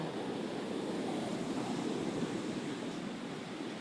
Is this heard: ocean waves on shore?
yes